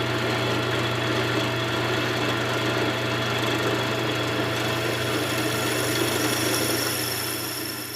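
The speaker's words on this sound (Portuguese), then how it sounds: "A gente vai primeiro passar uma broca de 4 mm e depois a gente passa a de 5." An electric drill with a 4 mm bit bores a hole during the build of an electric scraping machine, a loud continuous motor whine with steady grinding that eases slightly at the finish.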